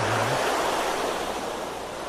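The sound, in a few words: ocean waves at the shore in Fort Lauderdale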